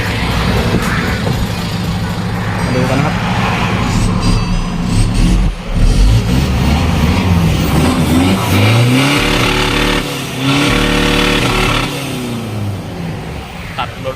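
A remapped 2018 Ford Ranger T6 with the 2.2 diesel revs hard and close by, its engine surging and dipping through repeated throttle blips over a steady loud drone, with no voice over it.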